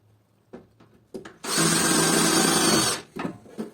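Power drill driving screws into the cable ducts of an electrical panel, a loud steady whir of about a second and a half, with short taps and handling clicks before and after.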